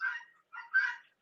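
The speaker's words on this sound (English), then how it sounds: "That's a fucking guinea on a farm." A guinea fowl on a farm gives harsh, raspy calls in two quick bursts, near and clear, with a short third note starting at the end.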